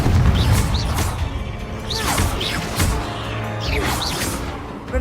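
The Confringo blast spell in the game Hogwarts Legacy produces a series of deep booming explosions with whooshing sweeps and crashing impacts, loud and dense amid ongoing combat noise.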